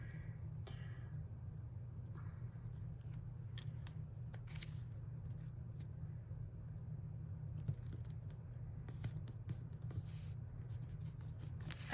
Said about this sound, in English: I'm going to trim that white off of the corner